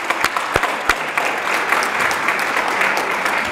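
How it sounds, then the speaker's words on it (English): An audience at an education summit gives a round of applause, a few sharp distinct claps at first swelling into steady, even clapping from a roomful of people. "So let's give a round of applause."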